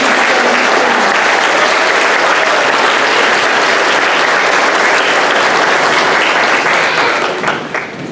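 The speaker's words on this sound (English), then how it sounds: "can we get a big round of applause?" Loud, dense audience applause at an elementary school fifth-grade graduation for an academic award winner, sustained and even before tapering off at the very end.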